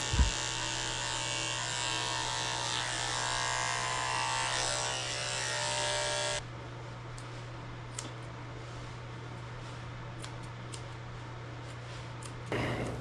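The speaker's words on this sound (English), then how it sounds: "So let's go ahead and shave her a potty path." Electric clippers buzz steadily while shaving a potty path on an Australian Shepherd during a grooming trim, a loud close motor hum that drops lower partway through, with small clicks and ticks as the blades move through fur.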